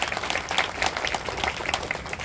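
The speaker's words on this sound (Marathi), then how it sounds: "एकदा जोरदार टाळ्या वाजवा." Audience applause at a book festival in Satara, a dense, steady crowd clapping filling the space, moderately loud and continuous with no talk over it.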